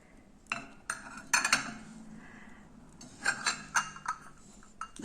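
Porcelain dishes clink and knock together in scattered bursts close by, light chinks and taps against a quiet background.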